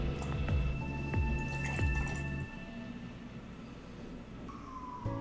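Vodka, 45 ml for a Bloody Mary, is poured into a measuring vessel, making a steady gurgling trickle with rising ringing tones that stops partway, then quiet room sound, with no talking.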